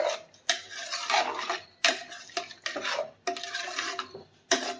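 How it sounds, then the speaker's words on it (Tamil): Pulao being stirred in a cooking pot, the spoon scraping and clinking against the metal in several separate close, fairly loud strokes with brief pauses between. "அவ்வளோதாங்க கலந்து விட்டுடலாம்"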